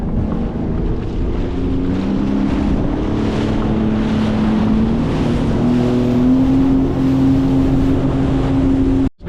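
Sea-Doo personal watercraft running out on the open sea: a loud, steady engine drone with rising pitch as it speeds up, heavy wind buffeting the microphone throughout, cutting off abruptly at the end.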